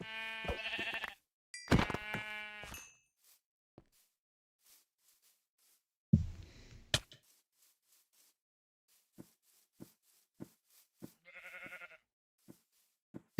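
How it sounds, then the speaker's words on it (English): Sheep in Minecraft with the Sevtech Ages modpack bleat in several short, harmonic cries near the start, then more bleats later, separated by quiet gaps with faint clicks of game actions. "Let me kill some sheep."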